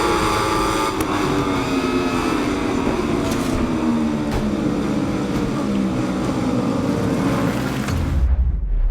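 WSBK superbikes at the start of a Superpole race at Most, Czech Republic, roar loudly as a pack of engines accelerates away together. Rising engine tones sweep upward and fade before the sound cuts off abruptly.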